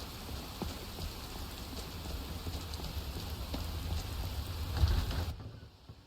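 Steady rain in the video game Skyrim hisses and patters close by with a few heavier drops, continuous and even until it cuts off abruptly near the end.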